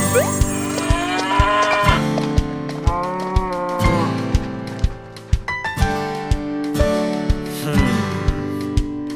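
Cattle in a Vietnamese 3D animated folk tale moo loudly several times, drawn-out bellowing calls over a steady rhythmic backing that runs throughout with no talk.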